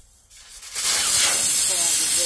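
Air hisses sharply out of a tire valve stem on 35-inch mud tires, starting abruptly after a brief quiet moment and continuing as a loud, steady close-up rush.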